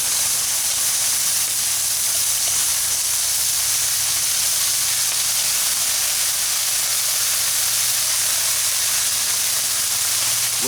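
Food for an English muffin breakfast sandwich fries in a pan with an unbroken, fairly loud sizzling hiss lasting about ten seconds, no voices over it.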